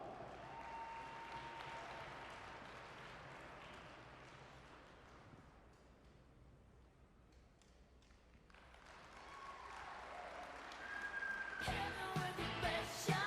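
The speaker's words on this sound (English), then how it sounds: "Give them a big round of applause, if you will" Crowd applause at a livestock show's market goat championship drive, a broad steady wash of clapping that swells louder near the end with a voice cutting in over it.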